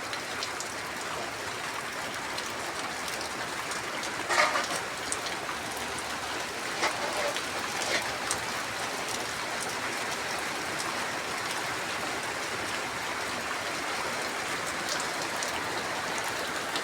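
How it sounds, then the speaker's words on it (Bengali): Steady rain pours down in Bangladesh, a dense continuous hiss of drops on surfaces with a few slightly louder splashes, close and even throughout, no voices. "বৃষ্টি।"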